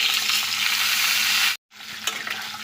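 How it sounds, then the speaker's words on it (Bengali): Papaya and potato chunks tipped into a pan of hot oil tempered with bay leaf and green chili, a loud steady sizzle that cuts out abruptly for a moment, then resumes slightly quieter with a few stirring scrapes. "আর এখন এই যে পেঁপে আর আলুটা দিয়ে দেবো"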